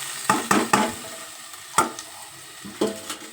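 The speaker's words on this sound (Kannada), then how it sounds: "ನಾವು ಹೆಚ್ಚಿಟ್ಕೊಂಡಿದ್ನಲ್ಲ ಅದು ಒಂದು ಟೊಮೆಟೊನ ಈ ಪಾತ್ರೆಗೆ ಸೇರಿಸ್ಕೊತಾ" Chopped tomato tipped into a hot cooking pot for tomato rice, giving a soft sizzle broken by several sharp stirring and scraping knocks, close by and with no talk.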